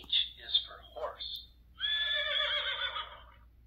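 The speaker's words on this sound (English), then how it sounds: "H is for horse." A horse whinnies twice in short bursts, then gives a longer, shaky neigh that trails off, fairly close and clear.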